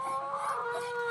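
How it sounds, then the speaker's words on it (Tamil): Country chicken rooster clucking on a small farm, a short run of close, fairly steady calls with no talk. "சேவல் தான் இருக்காங்க."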